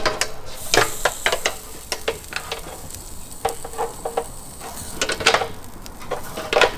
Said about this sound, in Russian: Начинаем жарить шашлык.